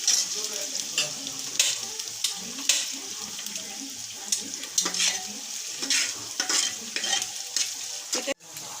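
Onions fry in very hot oil for beef nihari, with the burner switched off. The sizzle is steady and crackling, with stirring scrapes and a sharp clank near the end.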